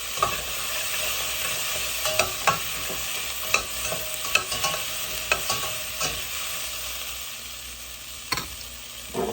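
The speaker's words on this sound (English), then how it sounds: "At this point, I'm going to add in my garlic." Garlic fries in a soup pot for chicken noodle soup, giving a steady hiss and sizzle broken by scattered sharp clicks and scrapes of stirring, close and fairly loud with no talking.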